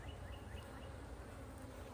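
Honey bees buzzing at an open hive after a swarm, a dense continuous drone close by with no pauses and no voices over it.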